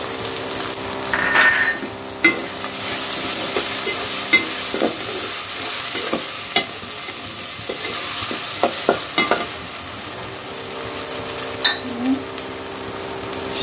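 Chicken curry with green chilli paste sizzles in a pan while a utensil scrapes and clatters against the metal in repeated sharp strokes, close and steady over a continuous frying hiss.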